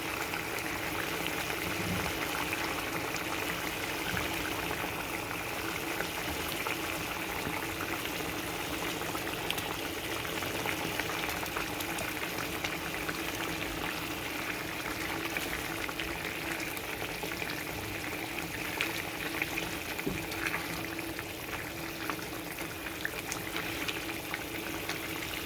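Fish curry broth bubbles at a steady boil in a pot, a continuous close-up simmering and popping that keeps an even intensity throughout, with no voices.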